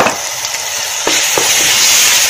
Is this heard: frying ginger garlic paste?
yes